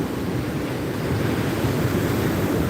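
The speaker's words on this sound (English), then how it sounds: "Surf's up. Lake Michigan." Freshwater surf on Lake Michigan near Chicago in winter, a loud continuous rumbling wash of breaking waves mixed with wind noise, steady throughout with no speech.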